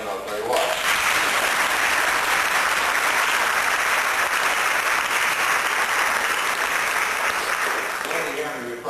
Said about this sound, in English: you just go ahead and applaud them